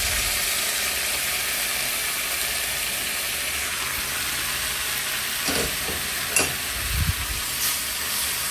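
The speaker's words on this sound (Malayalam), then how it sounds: "ഇനി നമ്മൾ വേവിച്ച് വെച്ചേക്കുന്ന ചിക്കൻ അതിലേക്ക് ഇടും." Cooked chicken tipped into browned onions in a hot pan for Kerala-style chicken ularthiyathu, giving a steady loud sizzle with a few thuds and stirring scrapes near the end and no talk.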